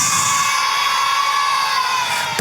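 A loud crowd of children shouts together in a long sustained cry at a children's revival service in a church hall, the massed voices filling the room before a sharp knock cuts in at the end.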